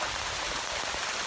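Steady, dense rain pours down outdoors in a continuous hiss of drops without a break.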